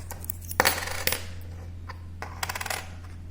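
Two-rupee coins clink and drop onto a hard surface during counting, a few sharp metallic chinks in two short clusters, quiet and close with no talk.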